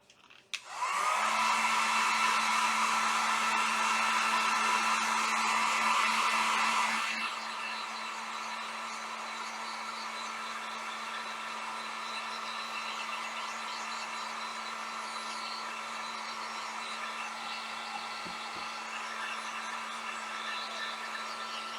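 A heat gun drying craft pieces for home decor blows a loud, steady whooshing hum with a constant motor tone. It gets noticeably quieter after about seven seconds but keeps running to the end.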